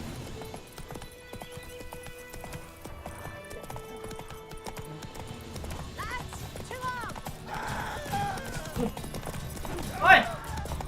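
Hooves clip-clop in a steady galloping rhythm as a horse runs in The Witcher 3 video game, faint beneath game music, with a sharp whinny near the end.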